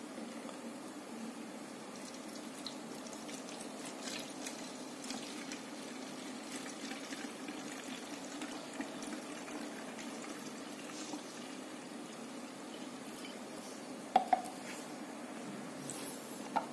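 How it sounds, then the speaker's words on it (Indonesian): Homemade hand sanitizer poured into a container: a soft, continuous liquid trickle runs steadily for the whole stretch, close and fairly quiet, with a few faint knocks near the end. "Kita tuang ke wadah ini."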